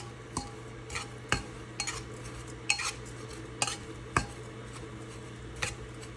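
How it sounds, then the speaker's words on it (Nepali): Rice flour being stirred and fried in ghee, with a spoon scraping the pan in sharp, irregular strokes about once a second over a quiet, steady sizzle, close and alone. "चामलको पिठो पनि यसमै राखेर मजाले सुजी जस्तै गरेर घिउमा मजाले रातो हुने बेलासम्म भुट्ने"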